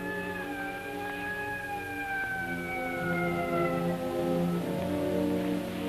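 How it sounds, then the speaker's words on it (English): Wailing sirens rise and fall in long sweeping tones, overlapping at moderate distance over a steady background wash. "When I got far enough away not to be annoyed by police sirens"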